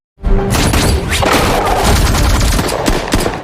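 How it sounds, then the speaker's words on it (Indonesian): Gunfire in a film scene, loud and sustained, with a rapid burst of shots and crashing impacts that fill the whole moment without any speech. "Laura yang tak tinggal diam langsung menembaki Christos"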